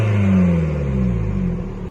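A Ford Focus mk2 with a 1.6 engine and aftermarket exhaust revs, a steady engine drone whose pitch slowly falls away, close and loud, with no voices.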